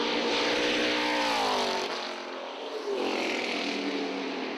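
A 1978 Ford Falcon Cobra muscle car with a 366 engine runs at a Pukekohe production muscle car meet, giving a loud, continuous engine roar that shifts in pitch and eases briefly midway before surging again.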